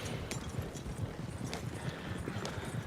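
Horse hooves clip-clop steadily at a walking pace in the Western video game Red Dead Redemption 2, with quiet, evenly spaced hoofbeats over soft ambient background.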